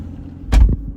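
A 2018 Aston Martin DB11 V12 coupe is shifted into reverse, giving a single short, close thunk inside the quiet cabin.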